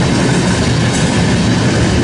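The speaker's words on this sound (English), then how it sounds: "With any luck, we'll get that CN train going by." A CN freight train passing close by, a loud continuous rumble and rattle of rail cars with clickety-clack wheel noise filling the whole stretch.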